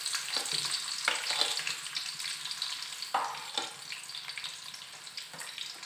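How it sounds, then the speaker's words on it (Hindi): Chopped onions sizzling in hot cooking oil in a pan while making aloo matar curry, a steady crackling hiss with occasional louder spits and stirring scrapes, no voices. "अब जैसे ही कुकिंग ऑयल गर्म होगा मैं इसमें ऐड कर दूंगी प्याज।"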